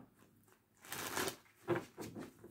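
Tarot cards shuffled by hand in a quiet room, two soft riffling bursts of papery rustle separated by a short pause, close and moderately quiet.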